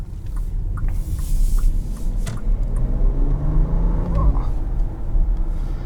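Low, steady rumble of a Bentley Bentayga with its W12 engine driving, heard from inside the cabin, with someone talking over the drone throughout.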